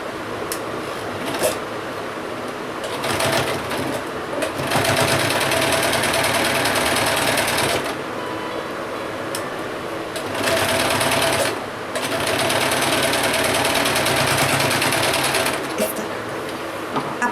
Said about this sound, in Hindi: अब इसको उल्टा करके यहाँ पे इन दोनों की सिलाई लगा दें।